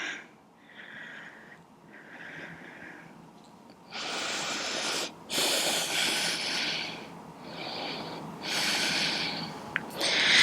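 Slow, calm yoga breaths come close and clear, a few drawn-out airy inhales and exhales alternating in a relaxed rhythm with brief pauses between them.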